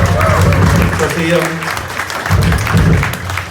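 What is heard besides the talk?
audience applause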